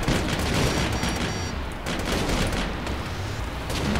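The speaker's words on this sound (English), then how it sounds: "I got hit by their cannon." Enemy cannon fire strikes a player's scrap-built vehicle in the combat game Scraps, a loud, dense barrage of booms and rapid gunfire that runs continuously throughout.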